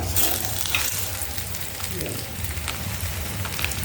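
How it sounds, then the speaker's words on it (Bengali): Rohu fish pieces coated in lentil flour frying in hot oil, a steady close crackling sizzle that holds throughout without pause. "এবার এই মাছটাকে নিয়ে গিয়ে আমি তেলের মধ্যে ছেড়ে দিচ্ছি।"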